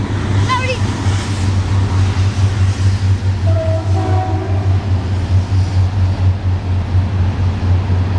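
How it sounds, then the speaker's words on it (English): A train rumbles past with a steady low-pitched drone throughout, faint clattering and a brief horn-like tone, while a person speaks over it. "Sorry about the train going by."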